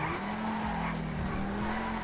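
McLaren car in GTA 5 skidding with continuous tire squeal over a steady engine drone, one unbroken stretch of screeching at moderate level.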